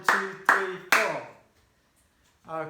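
Three sharp hand claps in quick succession, close and loud, followed by a pause of near silence before a voice begins speaking.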